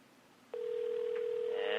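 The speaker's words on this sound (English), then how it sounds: "we're calling a Japanese restaurant in Japan" A telephone tone from a call placed to a Japanese restaurant in Japan starts abruptly after a brief quiet moment and holds as a steady, clear, unbroken tone to the end, with no voices over it.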